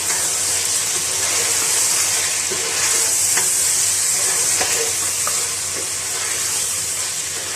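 Tomatoes and spices fry loudly in a pan, a constant bright sizzle with occasional soft scraping as they are stirred, close and alone without speech.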